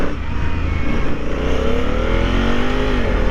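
Honda Africa Twin motorcycle with automatic transmission, its engine loud and close while riding, a continuous throbbing drone with revs climbing through gear changes.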